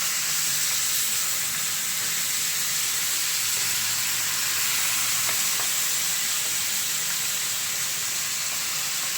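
Squid cooks in coconut milk in a frying pan, giving a steady, close sizzle and bubbling hiss that runs without a break, with faint stirring scrapes and no talking.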